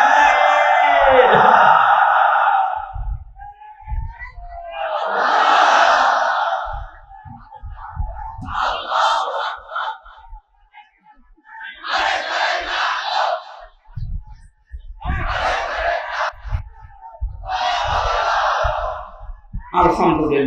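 At an outdoor Islamic tafsir gathering, a large crowd roars Allahu Akbar in unison after a leader's takbir call. The call and response repeat several times as loud, echoing bursts.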